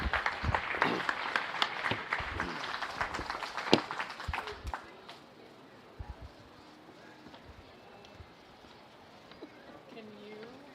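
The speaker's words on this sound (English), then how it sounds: "Give these exhibitors a big round of applause." Audience applause at a county fair beef steer show, a dense patter of clapping for the exhibitors that fades after a few seconds into softer scattered claps and murmuring talk in the arena.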